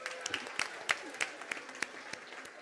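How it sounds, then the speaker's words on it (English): A small group clapping for themselves after a partner dance routine at an event, a sparse scatter of distinct claps fading within a few seconds, fairly close and moderately loud. "Clap for yourselves"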